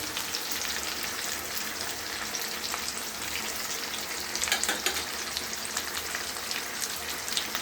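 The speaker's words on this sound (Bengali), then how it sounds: "অনবরত নেড়ে যেতে হবে।" Food frying in oil in a pan, seasoned with turmeric and a little salt, is stirred continuously: a steady, close, dense sizzle with soft scraping of the spoon running throughout, no voices.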